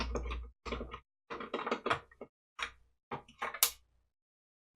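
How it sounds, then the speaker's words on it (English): A Nintendo security screwdriver works the security screws out of a GameCube DOL-001 console, producing faint, close, intermittent bursts of squeaky scraping and ratcheting separated by short silences. "we'll take our Nintendo screwdriver and we'll get these security screws"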